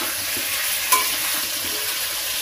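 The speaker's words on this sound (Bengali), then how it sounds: "এবার লাল করে আলুটা ভাজা হতে হতে" Potatoes frying in a pan, a steady hissing sizzle with a single light clink of a utensil partway through, heard alone with no talking.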